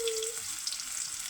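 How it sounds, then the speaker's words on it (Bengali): Onions frying in the same hot oil that just fried eggs in a home kitchen, a steady bright hiss of sizzling oil throughout, close and fairly loud, with a brief lower tone fading early on. "এখন আমরা গরম তেলেই একই তেলে আমরা এখন পেঁয়াজ দিয়ে দিব।"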